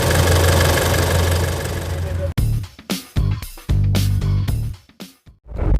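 A repaired Isuzu D-Max 2.5 engine runs steadily during a test drive, loud at first, then broken into short bursts of engine noise separated by brief gaps.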